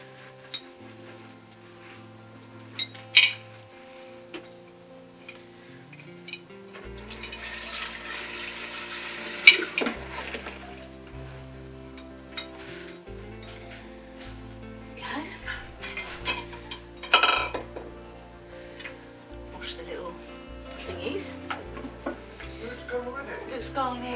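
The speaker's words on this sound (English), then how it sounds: "So I'm just washing out the containers now." Flour containers being washed out at a kitchen sink, with water running, plastic and dishes knocking and clattering in irregular bursts over background music and a talking voice.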